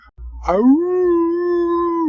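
A Dalmatian lets out a single sustained howl, rising from a short yelp into a long, steady, tonal note held close and loud for nearly two seconds before it breaks off.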